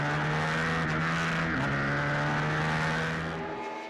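Race cars at the Scorpion Masters 2013 on the Paul Ricard circuit, with a rally driver's roadster among them, hold a loud, steady engine drone that shifts pitch midway, then fades slightly as they pass.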